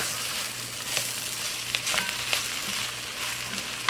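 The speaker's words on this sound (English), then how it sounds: "I'm gonna cook my chicken sausages over here." Chicken sausages fry in a pan for homemade gumbo, giving a steady close sizzle with scattered sharp pops and crackles over a low constant hum, with no talking.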